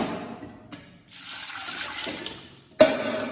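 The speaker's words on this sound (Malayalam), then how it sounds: "ആ വെള്ളം ഇതിലേക്ക് ഒഴിക്കാം." Five measured cups of water are poured into a pot for Kerala-style rasam, a close rushing, gurgling pour that dips briefly, resumes, and ends with a sharp splash.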